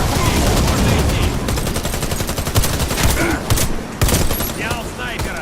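Warface video game combat: dense bursts of rapid gunfire with bullets whizzing past, continuous and loud with no pauses, overlapped by occasional game voices.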